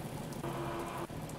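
Rain falling in the farming video game Farmington County, a steady wash of drops on a surface that swells louder midway through and then eases back, with no voices.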